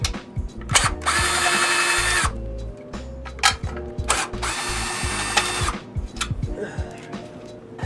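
A ratchet and power tool work on 8mm bolts of a Honda CRF110 pit bike during a teardown: two long loud whirring runs broken by sharp clicking ratchet strokes and metallic clanks, close up with no voices.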